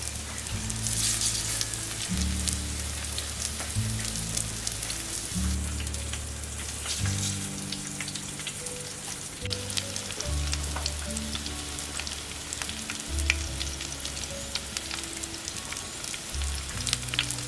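Colocasia leaf vadi pieces shallow frying in oil in a village kitchen, a dense crackling sizzle with spattering pops, steady and close, while a low intermittent tonal hum sits underneath.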